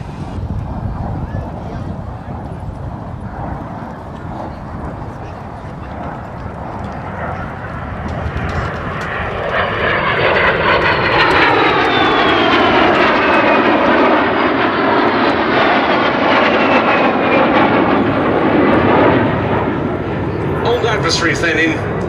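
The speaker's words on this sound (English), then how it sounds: "A very special formation indeed of the MiG-15 UTI and the two Vampires." A MiG-15 UTI and two de Havilland Vampire jet fighters fly past in formation at an airshow, a steady roaring jet rumble swelling louder with a sweeping whine, under wind buffeting and a voice talking.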